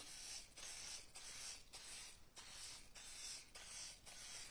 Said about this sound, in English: I am going to spray my mini muffin pan.